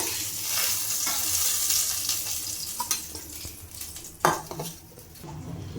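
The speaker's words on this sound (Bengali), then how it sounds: "আমি এইভাবেই সমস্ত মাছগুলো ভেজে নেব" Rohu fish sizzles in hot oil in a kadai, a steady close frying hiss broken by a few sharp clinks of a utensil against the pan.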